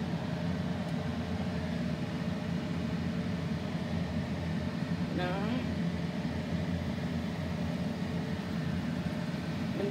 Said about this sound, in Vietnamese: Giờ mình bỏ vô mình chiên.